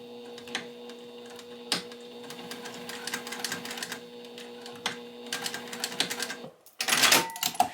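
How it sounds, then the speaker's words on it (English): A sewing machine back-stitches back and forth over the connector of a seashell saddle bag, giving a steady, close mechanical chatter with a few sharper clicks and a louder burst near the end. "So I'm going to back stitch on both times, but just sewing right there."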